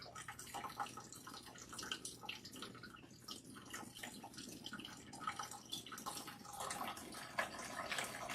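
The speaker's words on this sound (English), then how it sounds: "now we are going to rinse" Water runs and splashes while natural hair is being rinsed. The rush is faint and continuous, with small irregular drips and splashes.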